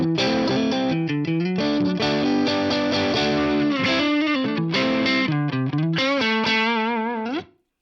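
Electric guitar through a Brit Studio 20 amp at edge-of-breakup, neck and middle pickups together, playing a lively chordal phrase with a mildly overdriven chime and light effects, steady and close, ending as the last chord is cut off.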